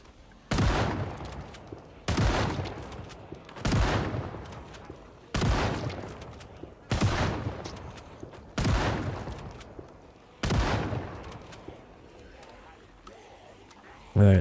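Shotgun blasts from a video game boom out in a slow, regular series of about eight heavy shots, each with a long decaying tail, loud and close.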